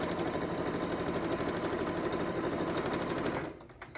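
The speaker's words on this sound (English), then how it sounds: "I'll only be sewing for an hour today" Sewing machine stitching a red, white and blue quilt, a fast steady mechanical whirr of needle strokes running close and loud, then cutting off abruptly near the end.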